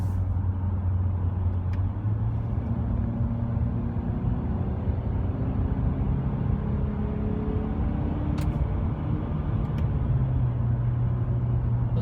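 Steady engine drone and road rumble from inside a 2016 Honda Accord Sport taking turns, with the pitch of the motor rising and shifting as it drives, with no voices.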